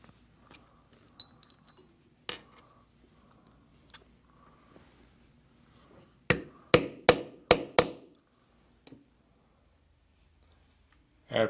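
A rivet is hammered onto a leather guitar strap: a few scattered taps, then a rapid run of five sharp strikes close up, followed by quiet and one last knock.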